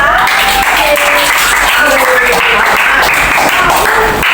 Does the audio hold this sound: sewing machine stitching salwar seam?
no